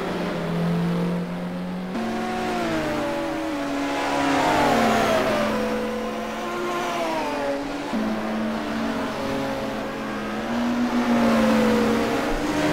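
Racing car engines in a sim racing game at the Vitus Parc circuit, a loud continuous drone that rises and falls through gear changes, with repeated revving climbs and a shift around two seconds in, close-up and alone.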